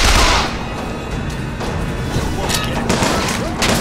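Fireworks exploding in a video game, a loud boom at the start followed by scattered sharp bursts and crackles over a dense noisy background, with some speech mixed in.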